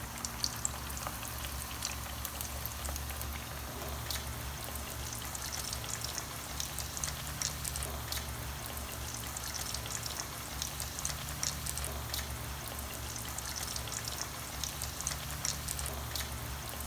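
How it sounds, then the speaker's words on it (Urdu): Eggplant pakoras deep-fry in hot oil, a steady soft sizzle with scattered crackling pops throughout, quiet and continuous with no one speaking. "بینگن کے پکوڑے فرائی ہو گئے."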